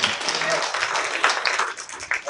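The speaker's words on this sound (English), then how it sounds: "give a round of applause" Audience applause at the Selma Jubilee 2020 public conversation: a crowd claps continuously, with voices talking over the clapping.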